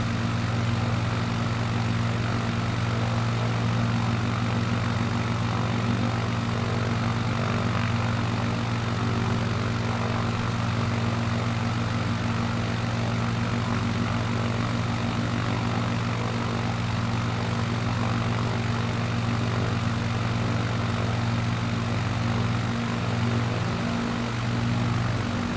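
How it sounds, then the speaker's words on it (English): A propeller plane in Microsoft Flight Simulator 2020 flying over the Hawaiian islands, its engine droning in a steady, loud, unbroken hum with a constant buzzing tone throughout, and no voices. "At least the plane doesn't sound like a thunder."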